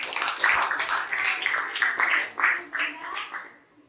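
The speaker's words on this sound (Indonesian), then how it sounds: "Iya, oke, beri tepuk tangan." A classroom of students clapping hands in a physics lesson, an uneven patter of claps that swells and fades unevenly before dying away.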